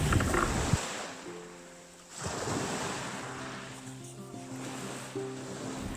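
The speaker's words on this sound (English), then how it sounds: "Swash, backwash, swash," Ocean waves run up a beach and drain back in long surging washes, with a louder surge rising about two seconds in, mixed with a low steady musical drone underneath.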